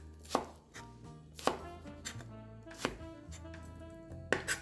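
Knife slicing through a red onion on a cutting board, four crisp separate chops spaced about a second apart, close and quiet, with no talk.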